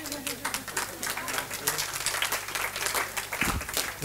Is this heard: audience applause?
yes